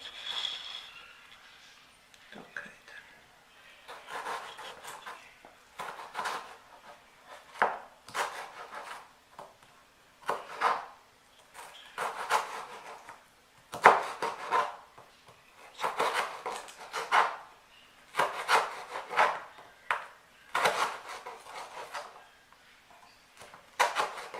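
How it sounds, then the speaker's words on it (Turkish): Repeated knife strokes thinly slicing potatoes on a cutting board, steady rhythmic bursts, fairly close and quiet. "O soğarken ben de patateslerimi doğruyorum. Şöyle ince ince."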